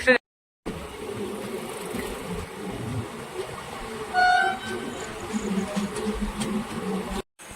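A train stands halted at Azimganj cabin, a low steady rumble of the idling carriage filling the background, with a brief bright horn-like tone around the middle and faint insect-like buzzing; no one speaks.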